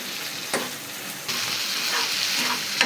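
Egg bhaji sizzles loudly and steadily in oil, a close, dense hiss with a few soft knocks and scrapes as the spatula stirs it.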